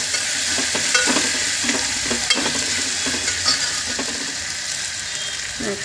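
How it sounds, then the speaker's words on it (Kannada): Onion and green chilli frying in a pan, a continuous bright sizzle broken by repeated scraping and clinking as the pieces are stirred, close and steady with no talking. "ಈರುಳ್ಳಿ ಮತ್ತು ಹಸಿಮೆಣಸಿನ್ಕಾಯಿ ಹಾಕ್ಕೊಬಿಡೋಣ."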